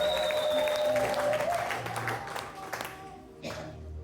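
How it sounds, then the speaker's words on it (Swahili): A church congregation at a Sunday service claps and ululates in praise, a loud burst of hand claps with a high wavering trilling voice over it, tapering off, then a brief last clap. "Ongeza makofi na vigelegele kwa Yesu."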